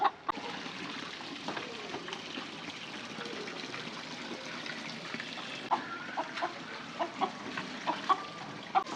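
Desi country chickens and a rooster cluck amid steady background noise in a rural Punjab yard while birds are being caught, with short sharp calls growing more frequent toward the end.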